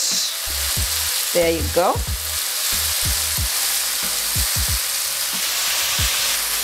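Broccoli sizzles steadily in a hot pan during a chicken stir fry, with repeated scraping stir strokes and clacks from a utensil throughout; a brief spoken remark rises over the frying near the start.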